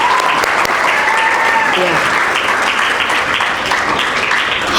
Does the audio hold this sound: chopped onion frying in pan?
no